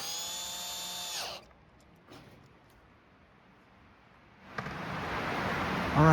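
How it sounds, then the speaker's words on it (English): A power drill drives H1 fasteners with washers into the metal brackets of a 10x12 PAMAPIC metal hardtop backyard gazebo, a steady whir at the start, a quiet gap, then a louder rough burst near the end. "Go ahead and screw that right in there."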